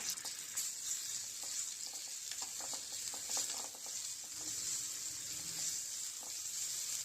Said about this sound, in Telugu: పచ్చివాసన పోయే వరకు బాగా ఆగనివ్వాలి